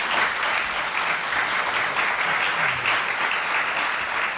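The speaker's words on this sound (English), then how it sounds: "I'd like you to give them a round of applause because they were terrific" A loud, close audience gives steady applause to the panellists at the end of a CSIRO session, dense clapping from many hands continuing evenly throughout.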